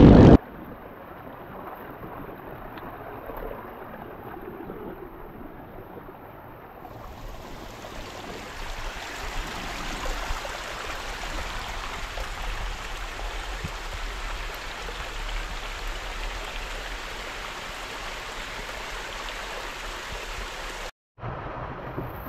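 Rushing water from the Kibalabag waterfall, reduced by El Niño drought, makes a steady broadband roar outdoors that rises after a few seconds and continues without pause, with wind buffeting the microphone and no speech.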